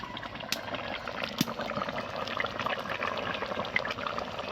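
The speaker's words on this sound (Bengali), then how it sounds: "এই যে 5 মিনিট মতো এই তরকারিটাকে আমি একটু ফুটিয়ে নেব" A vegetarian curry bubbles gently in a pan, a soft, steady simmer with scattered small pops, quiet and continuous.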